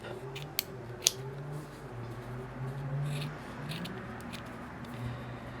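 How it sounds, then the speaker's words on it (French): Scissors snip cotton squares into quarters to make small pads for a manicure, giving two or three sharp, close cuts over a quiet room hum. "Là ce sont des carrés de coton que je vais couper en 4 pour obtenir de petits carrés."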